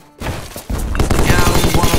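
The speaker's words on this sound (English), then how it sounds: "one of them got caught in the explosion" A video game explosion bursts in after a brief lull, followed by a dense, rumbling stream of blasts and crackling impacts that keeps going, loud and close.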